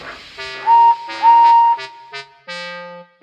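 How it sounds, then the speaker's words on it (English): A railway guard's whistle blown at a train station in a cartoon railway story, a series of loud shrill tonal blasts of varying length, close and clear with no talking. "the guard blew his whistle and Henry left the station"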